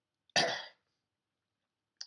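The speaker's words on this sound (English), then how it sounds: "Sorry if I'm coughing a bit" One short, rough cough in near silence, followed by a faint start of another sound at the very end.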